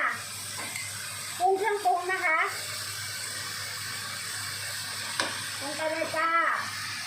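Chili, garlic and chicken sizzle and scrape as they are stir-fried in a pan for a Thai basil chicken dish, a steady frying hiss broken by stirring clatter, with a parrot-like chirping voice and speech over the top.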